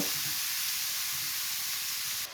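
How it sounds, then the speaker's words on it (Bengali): Grated carrots fry in hot ghee with a steady, close sizzling hiss that holds evenly throughout before cutting off abruptly at the end. "ঘির মধ্যে পাঁচ মিনিটের মতো ভেজে নিব"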